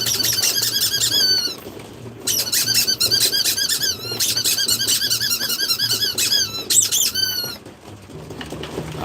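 A dog's squeaky toy squeals in rapid bursts of high-pitched squeaks, repeated in quick clusters with short pauses between, close and fairly loud.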